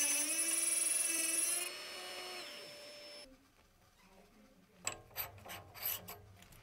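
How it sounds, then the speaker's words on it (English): A grinding disc cuts away the tip of a metal tab for a mini lathe compound slide, a loud steady whining grind with high harmonics for the first few seconds, then quieter scraping and a few sharp bursts. "Very slowly and by trying out different grinding discs, I cut away the tip of the tab."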